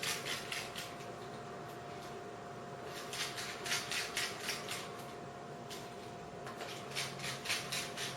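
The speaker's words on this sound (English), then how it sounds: "You can start screwing the screws back in." Small screws being driven back into a MacBook Pro 13-inch A1278 laptop during a logic board replacement, faint close clicking and ticking bursts in short runs, with no talk.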